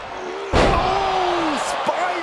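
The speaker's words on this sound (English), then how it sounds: "Oh, spine buster." A heavy wrestling spine buster slams a wrestler down onto the ring mat with one sharp, loud impact, while crowd noise and excited commentary continue over it.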